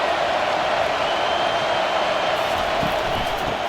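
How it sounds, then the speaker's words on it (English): A steady, dense roar of a stadium crowd in the College Football 25 video game during a Boston College versus Notre Dame matchup, constant and loud throughout with no breaks. "This crowd bringing the energy and noise early."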